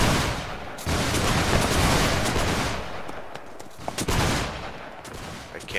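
Musket volleys in a Mount & Blade Warband American Revolution mod battle against natives, dense crackling bursts of many shots overlapping into a continuous roar, with sharper individual reports near the end.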